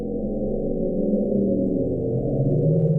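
The Bloop, a mysterious underwater sound recorded by NOAA in the South Pacific Ocean, rumbles low and muffled for a few seconds, a deep continuous swelling drone with nothing higher above it.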